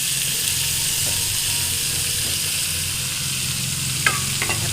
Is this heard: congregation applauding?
no